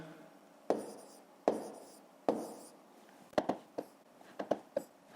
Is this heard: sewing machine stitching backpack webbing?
no